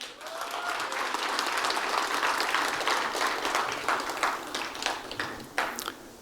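A crowd at the opening of a literary peace and human rights award ceremony in Yeosu applauds steadily, a full, even roar of clapping that thins toward the end.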